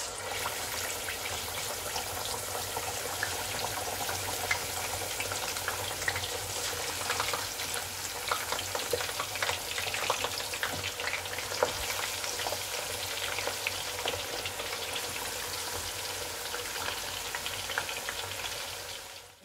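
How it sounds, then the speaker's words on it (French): Steady crackling and sizzling of fish frying in hot oil for Senegalese thieboudienne, a continuous bubbling hiss heard close up with no voices. "on va faire frire"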